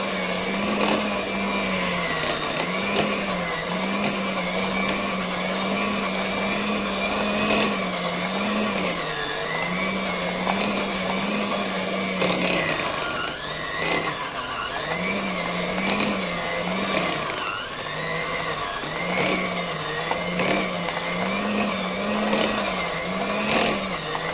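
Electric hand beater running on fast speed through cake batter, a steady, fairly loud motor whine whose pitch wavers in a regular rhythm, dipping briefly midway before resuming, with no talking.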